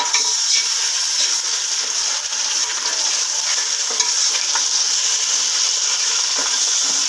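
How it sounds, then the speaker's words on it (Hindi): Mutton pieces sizzle loudly in hot oil over browned onions for a shaljam gosht, a steady dense frying hiss with occasional stirring scrapes and no voices. "प्याज ब्राउन हो गई है, इसमें गोश्त शामिल कर देंगे।"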